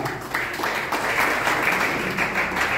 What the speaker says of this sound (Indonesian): Beri tepuk tangan dulu bagi Tuhan.